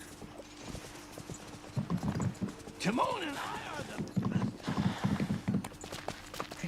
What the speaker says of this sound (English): Let's go get on a horse over to Goofy then.